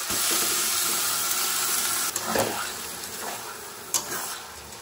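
Boiled mung beans go into cooked-down meat sizzling in a pan, a steady close sizzle with a few short bursts and scrapes partway through, no voices.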